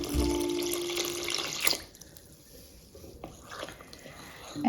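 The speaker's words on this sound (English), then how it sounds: "I'm adding a cup of water" A cup of water is poured into a sourdough bread mixture, a short close splashing pour that fades quickly, followed by quieter faint handling sounds.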